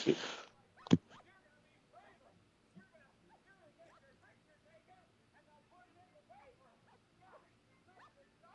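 A dog gives a couple of sharp, close barks at the start, then faint yips and whimpers continue under quiet talk.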